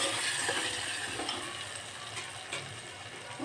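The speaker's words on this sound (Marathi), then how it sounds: "आपण असं थोडंसं आता क्रश करून घेऊया चमच्याच्या साह्याने" Cooked tomatoes are pressed and crushed with a spoon in simmering dal: soft, wet scraping and squishing under a low bubbling hiss, quiet and close.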